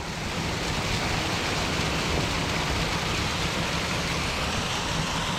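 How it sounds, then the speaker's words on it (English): Small waterfall beside an abandoned mansion in Angus, Scotland, a steady, dense rush of falling water, close and constant with no talk. "Wow, look, it's a proper waterfall."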